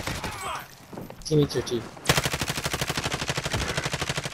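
Gunfire in Call of Duty: Modern Warfare: after a brief spoken line and a few small chimes, a close, loud machine gun opens up, rattling in an even rapid rhythm for the rest of the clip.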